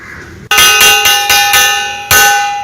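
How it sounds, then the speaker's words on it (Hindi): A loud electric school bell rings close by in a sustained metallic clangor, broken by brief pulses and a short gap before it resumes, at a reopened school in Munger, Bihar. "और वहीं मुंगेर के स्कूलों में भी घंटी बज गई है"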